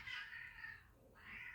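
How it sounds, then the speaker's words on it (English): Cats fighting and caterwauling in long, strained yowls, loud and close, with a brief dip in the middle before the howling rises again. "cats are fighting."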